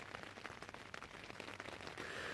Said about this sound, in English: you will know it's raining